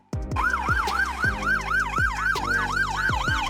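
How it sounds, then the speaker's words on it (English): Czech ambulance siren wailing loud and close in a steady rising-and-falling sweep, repeating about every third of a second, over a low engine rumble with sharp horn-like pulses underneath. "Ambulances in the Czech Republic"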